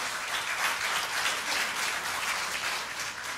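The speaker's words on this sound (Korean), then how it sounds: "이럴 때 박수 안 치십니까?" Audience applause at a Korean lecture on the Moon Jae-in government's welfare policy, a steady wash of many hands clapping throughout, fairly distant and even, with no speech over it.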